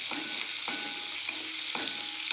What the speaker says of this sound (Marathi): गॅस मंद आचेवरच ठेवायचं आहे आणि याला व्यवस्थित आता फ्राय करून घ्यायचं आहे दोन ते तीन मिनटं मिरची एकदम मऊ व्हायला पाहिजे